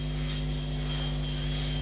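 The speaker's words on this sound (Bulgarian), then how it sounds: "И самолет реши да дойде." Airplane passing overhead, a steady droning engine roar holding at a constant level throughout, with no voices.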